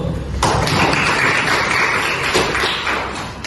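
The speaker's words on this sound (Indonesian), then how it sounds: "Oke, berikan aplaus." A classroom of students applauding, a dense burst of clapping that starts abruptly, holds steady for a few seconds, then tapers slightly.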